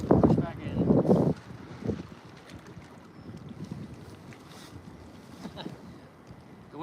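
Wind gusting and buffeting a microphone while kayak fishing in spring, with soft rumbling bursts up front and quieter gusts afterward, occasional water and paddle-like knocks in the background.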